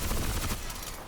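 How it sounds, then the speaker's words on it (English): Rapid minigun fire in Crysis 3, a dense continuous roar of shots that is loudest at the start and eases slightly toward the end, with no talk over it. "You've given me a minigun."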